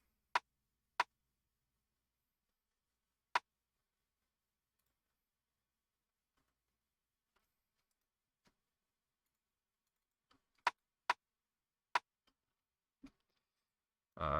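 Layered chopper rim and south side rim samples stacked in FL Studio, crisp isolated rim clicks struck sparsely in a loose pattern, a couple early, then a tighter cluster near the end, with silence between hits.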